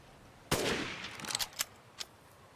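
Gunfire in the video game Resident Evil Village: one sharp loud shot, followed by a short run of quieter cracks and impacts that fade within two seconds.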